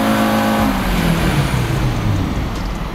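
An Audi RS3 with a JB4 tune on map four, about 20 PSI of boost, doing a dyno run, a loud continuous engine roar climbing steadily in pitch as it revs up through the pull, no voices.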